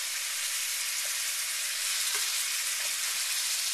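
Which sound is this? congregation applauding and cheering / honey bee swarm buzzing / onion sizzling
onion sizzling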